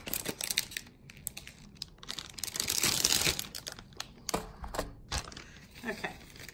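Clear plastic packaging crinkles and rustles close up as stickers are unwrapped, with irregular crackly bursts and a fuller crumpling stretch in the middle.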